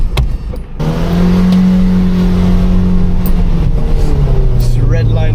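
Car engine revving hard toward redline, a loud sustained drone that holds steady close by for several seconds, with a voice speaking over it.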